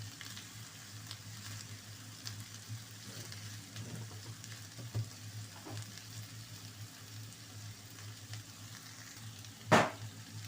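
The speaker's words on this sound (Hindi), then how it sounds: "ये देखें माशाल्लाह कितनी अच्छी फ्राई हो रही है" Bell pepper pieces fry gently in a pan for an Arabic-style dish with mince, eggs and potato, a soft steady sizzle with a sharp clatter of a utensil near the end, no talking.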